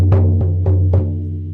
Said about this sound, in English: So I'm drumming